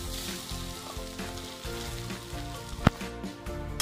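Freshly grated coconut roasting in a pan over slow to medium heat for coconut burfi, a continuous close sizzle with one sharp clink of a utensil.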